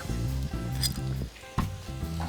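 Peppers, onions, garlic and chopped bacon sizzle and squish as they are stirred around a pan, a steady loud fry broken by brief scraping stirs and a clink.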